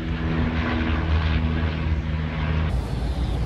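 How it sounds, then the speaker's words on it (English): A small propeller plane passes overhead outdoors in Manukau, a steady broad engine drone with low tonal hum, loud and continuous before the tone shifts near the end as it moves away. "Small plane, possibly coming in maybe from Hamilton."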